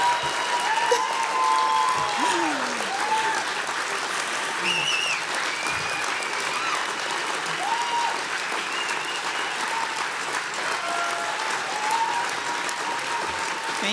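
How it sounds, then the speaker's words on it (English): Steady, enthusiastic applause from a large audience at an awards gala continues throughout, with a few faint cheers rising above the clapping. "You deserve the applause."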